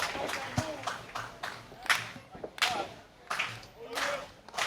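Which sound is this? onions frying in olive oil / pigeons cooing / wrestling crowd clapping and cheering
wrestling crowd clapping and cheering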